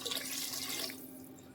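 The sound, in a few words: water being poured into masala in a pot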